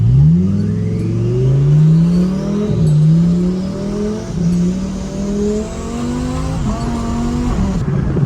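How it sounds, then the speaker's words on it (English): A turbocharged car at a stance car show pulls hard and loud, its engine note climbing through several gear steps with brief dips between shifts, no voices over it. "Dude, the turbo sound insane."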